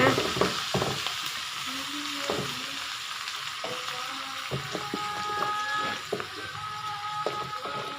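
Vegetables dropped into a pan of cooked onions sizzle loudly and steadily while a spoon stirs them with repeated scraping clatters, close up with no talking.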